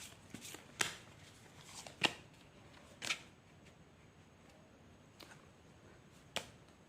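Tarot cards are drawn and shuffled in a quiet room, giving a handful of sharp, faint snaps and flicks spaced about a second apart over near silence.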